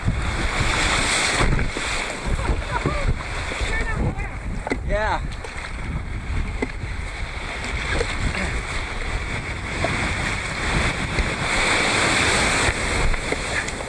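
Ocean waves wash and splash steadily around a canoe off Cape Beale, with loud rushing water and wind buffeting the microphone, and people call out briefly over it.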